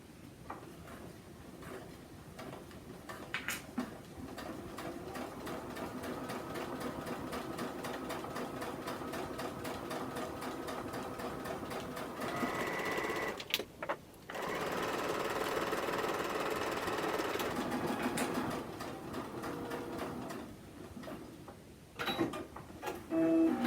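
A home sewing machine driven by a foot pedal while sewing a zippered cosmetic bag, running in long steady stitching bursts with a brief pause and a few clicks between runs, close and clear, no talk.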